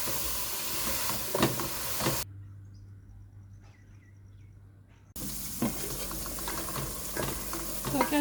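Fish frying in a pan for a home-cooked meal, a close, steady crackling sizzle that cuts out to near silence for a few seconds in the middle, then returns just as loud.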